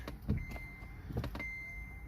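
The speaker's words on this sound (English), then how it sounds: "Go ahead and turn on your car" Inside a Kia Forte, the car is switched on: a few soft mechanical clunks and clicks followed by two thin, steady electronic tones in a quiet cabin.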